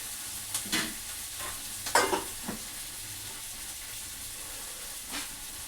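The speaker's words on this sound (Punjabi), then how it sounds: "ਪਿਆਜ਼ ਆਪਣਾ ਭੁੱਜ ਲਿਆ ਵਾ" Onions frying and being stirred in a pan at a home stove in the morning, with a steady sizzle underneath and a few louder scraping stirs clustered near the start and one more near the end.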